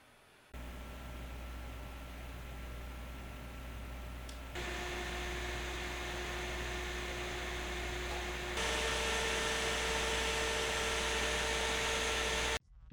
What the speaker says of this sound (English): I didn't find an issue with the fan noise at all.